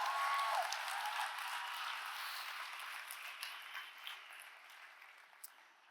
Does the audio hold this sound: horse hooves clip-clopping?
no